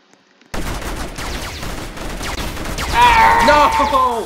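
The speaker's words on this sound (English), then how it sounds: "They were all shooting at me, I didn't even see them at all!" Gunfire from enemies shooting in a video game: dense bursts of shots across the clip, followed by a louder stretch where a voice shouts over the firing.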